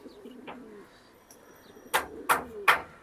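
Giribaj high-flyer pigeons giving soft, low coos, followed by three louder, sharp bursts in quick succession, close by in a quiet setting.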